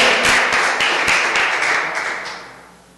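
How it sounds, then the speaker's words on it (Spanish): A church congregation claps in a burst of loud, dense applause that starts strong and fades away over a few seconds, with no voices over it. "Yo estaría dando un fuerte aplauso por eso."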